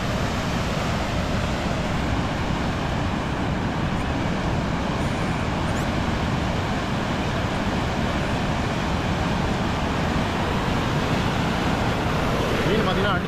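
A river in flood rushes past where a fisherman casts his net, a loud, dense roar of water that holds steady and close for the whole stretch.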